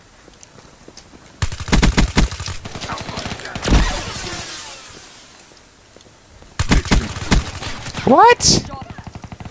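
Video game gunfire comes in rapid bursts of loud automatic shots, two main volleys separated by a quieter stretch, with a brief spoken exclamation and other game sounds between them.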